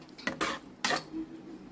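Paneer butter masala curry being stirred in a pan, with two or three distinct metal spoon-against-pan scrapes and clinks close by, alone without talk.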